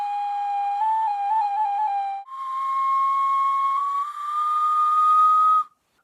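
A crocodile-shaped tribal wind instrument with finger holes is blown like a whistle. It gives a clear, loud, sustained tone that wavers, jumps up in pitch partway through and then slides slightly higher before stopping abruptly.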